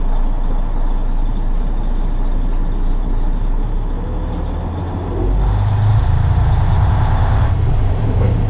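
A big truck maneuvering through tight city streets in Tacoma, a loud steady engine drone with a heavier surge as it pulls forward, heard from inside the cab with road rumble and no talk.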